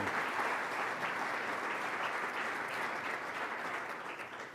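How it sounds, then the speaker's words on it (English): Sustained applause from a forum audience at a public event with the Ohio governor, offered to sponsors. It sounds as a dense, even wash of many hands clapping at moderate volume and tapers slightly at the end. "Another round of applause for them as well, please"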